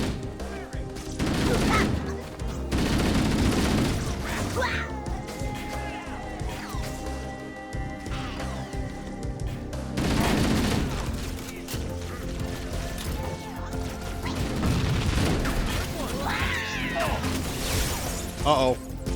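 Rapid gunfire from a Halo: Combat Evolved Anniversary firefight, with allies spraying friendly fire, loud bursts recurring through the scene under game music and effects while someone talks over it.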